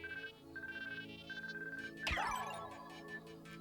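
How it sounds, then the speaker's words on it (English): A phone in the Pikmin 3 Deluxe video game emits a battery low signal: a repeating electronic beep tone pulsing in short bursts, then a sweeping chirp near the end, fairly quiet with no talk. "It's probably emitting the battery low signal."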